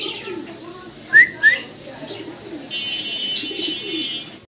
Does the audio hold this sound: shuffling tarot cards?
no